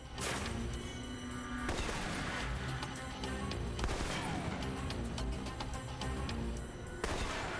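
Assault rifle fire in the spy video game Alpha Protocol, with dense rapid shots and crashes sounding continuously and loudly, plus a few sharper bursts.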